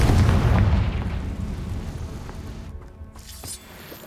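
A Confringo fire-blast spell explodes in Hogwarts Legacy, a heavy booming burst at the start that rolls off into a rumbling fade, followed by softer game effects.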